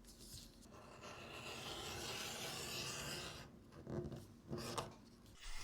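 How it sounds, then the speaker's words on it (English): A leather beveler scraped along the edge of a leather piece, giving a close, steady rasping rub for several seconds, then a few shorter, louder strokes. "With a beveler we break the edges and prepare them later on for burnishing."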